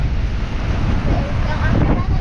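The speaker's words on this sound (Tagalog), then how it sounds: "May bagyo yata. Baka mabasa kami. Taas ng hangin." Strong wind buffets the microphone in a steady, loud roar, with a low rumble and faint splashing underneath.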